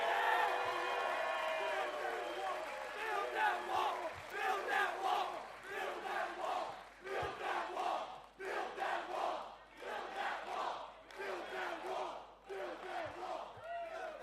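A large crowd at an outdoor campaign rally in Newtown, Pennsylvania roars and chants in rhythmic waves of cheering and shouts, sustained and loud over many seconds with a few low thumps.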